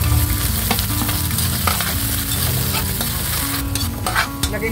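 Garlic and onion sizzle in hot oil in a pan while being stirred, a loud, steady crackling fry close by with occasional scraping.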